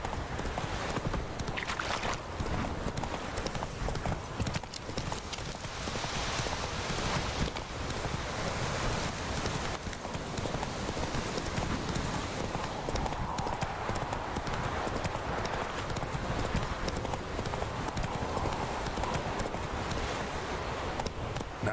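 Geralt's horse Roach clip-clops along with rapid, steady hoofbeats throughout in The Witcher 3, over wind and faint game ambience.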